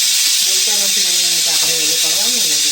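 Puris and green chillies fry in hot oil, giving a loud, steady sizzle that runs the whole time, with faint tonal clatter or voices underneath.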